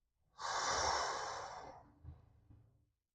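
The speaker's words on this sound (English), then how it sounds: "Breathe, take a breath, look. Exhale slowly." A slow, controlled exhale during a breathing exercise, a single long breath out that starts strong and tapers off gradually, heard up close with no talking.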